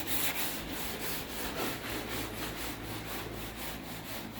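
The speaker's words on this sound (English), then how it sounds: "So I'm gonna start wet sanding all these little parts here." Continuous wet sanding of small body parts for a 1968 Fastback, a steady back-and-forth rubbing rasp with rhythmic strokes, close and moderately loud with no talking.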